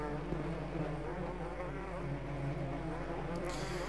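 Bees buzz in the video game Barrow Hill: The Dark Path, a thick and continuous insect hum that stays steady and fairly close for the whole stretch.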